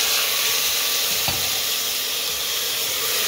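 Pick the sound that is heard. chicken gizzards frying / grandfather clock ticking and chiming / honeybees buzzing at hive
chicken gizzards frying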